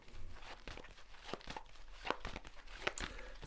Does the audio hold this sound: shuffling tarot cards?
yes